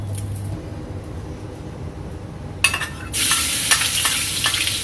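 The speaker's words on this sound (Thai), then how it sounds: "แล้วเราเจียวกระเทียมนะคะ" Garlic dropped into hot oil in a wok, a sudden loud bright sizzle that takes over after a quieter stretch, with scraping stir strokes.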